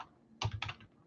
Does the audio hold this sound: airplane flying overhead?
no